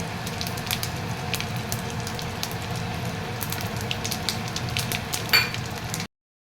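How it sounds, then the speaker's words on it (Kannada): Mustard seeds with asafoetida spluttering in hot oil in a pan, a steady dense crackle and sizzle throughout with scattered sharp pops, close and moderately loud, no talking. "ಹಿಂಗು ಹಾಕಿ ಒಂದು ಸ್ವಲ್ಪ ಸಾಸಿವೆ ಸಿಡಿಯೋಕೆ ಹಚ್ಕೊಂಡೆ"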